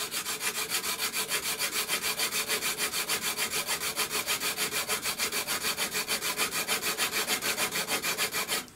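A hand tool rasps along the edge of FR4 G10 laminate in rapid, evenly spaced scraping strokes, loud and close, continuing steadily throughout with no voices.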